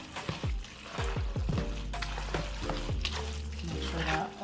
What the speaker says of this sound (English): I'm just gonna mix that in all together